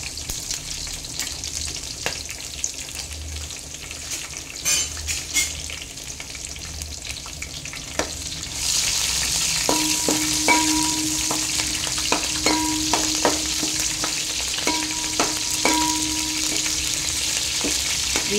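Onions and green chillies fry in a pan for chicken fried rice biryani, a steady close sizzle that swells into a louder, denser hiss partway through, with faint clinks of stirring.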